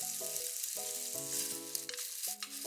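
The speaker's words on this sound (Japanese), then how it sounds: "フライパンに丸く乗せて焼きます" Tsukune chicken meatballs fry in a frying pan, giving a steady, close sizzle throughout while a melodic tune plays over it.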